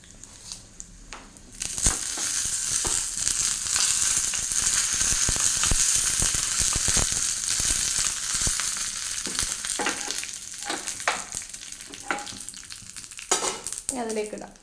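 Fenugreek seeds, dried red chilies and curry leaves crackle and sizzle in hot oil for a Kerala buttermilk curry tempering: a steady, bright sizzle with scattered sharp pops and spoon scrapes, close and loud, fading toward the end.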